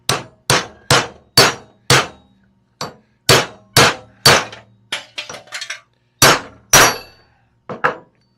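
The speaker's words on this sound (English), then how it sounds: "I'm just going to knock them in the same way I knocked them out." Metal hammer knocking parts back into place in a machine shop, a series of sharp, loud metallic clangs with irregular spacing and short decaying rings, close up with no talk.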